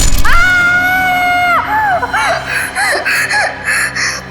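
A woman's high, sustained scream rings out loud and close, then breaks into shorter wavering cries and sobbing gasps, as if waking in terror from a nightmare.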